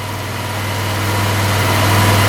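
An old, slightly smoking scooter engine drones loudly and steadily up close, its pitch and volume creeping upward as it revs without voices.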